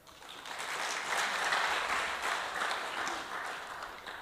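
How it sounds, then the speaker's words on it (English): Delegates at an annual broadcasters conference break into applause, a broad, sustained sound of many hands clapping that swells and holds steady from a hall-filling distance. "we do deserve a round of applause"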